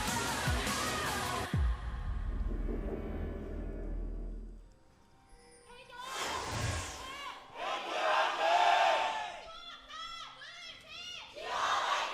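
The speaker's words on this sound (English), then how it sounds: "Sold out crowd here at the Seoul East Stadium" A sold-out crowd roars and cheers inside Seoul East Stadium at a League of Legends esports match, loud and sustained with swelling shouts and whoops throughout, dipping briefly before rising again.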